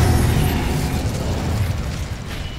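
Incendio fire spell cast in the video game Hogwarts Legacy, a dense roaring burst of flame with heavy low rumble that stays loud and steady throughout amid crackling combat effects.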